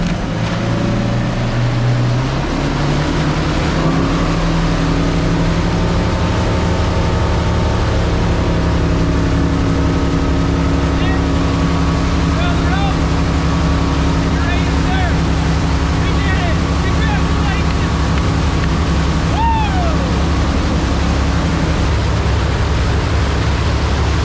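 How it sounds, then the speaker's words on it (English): A wakesurf boat's engine drones steadily and loudly as it pulls a rider up from a dry start, with rising tones as it speeds up, wind and water wash throughout, and brief talk over the engine. "after the boat kind of starts pulling me"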